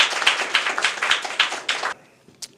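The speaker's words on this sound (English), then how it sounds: "let's have a rousing round of applause for Lexus" A graduation-day audience breaks into a burst of clapping for close to two seconds, dense and fairly loud, then stops abruptly, leaving a near-silent tail with a couple of faint taps.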